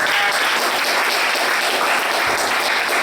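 A church congregation applauds to acclaim Jesus, with dense, sustained clapping filling the room at close range and only faint voices underneath.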